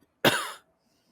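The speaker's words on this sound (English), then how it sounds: "As I cough." A single sharp cough close to the microphone, abrupt and brief, followed by near silence.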